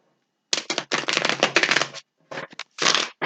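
Tarot cards are riffled and shuffled in several quick bursts, crisp flapping close up with short pauses between rounds.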